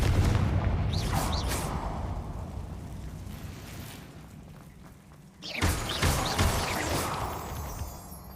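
Blasting spell explosions in the Hogwarts Legacy video game, a series of loud booming bursts with crashing debris, a heavy blast near the middle followed by more rumbling hits over steady game noise.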